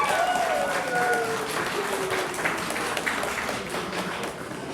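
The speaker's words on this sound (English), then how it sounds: "I want you all to give a hand of applause to this lady." Applause at a 50th birthday party for a woman called up, steady moderate clapping in a room with a sliding tonal sound early on and a murmur of voices.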